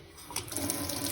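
A Moen faucet runs water into a sink, starting softly and quickly swelling into a steady, close splashing stream over a brief moment.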